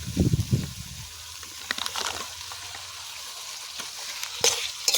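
Fried potatoes drop into a sizzling silver carp fish curry, a soft thump and splash at first, then a low steady sizzle with a few light stirring scrapes, close and quiet.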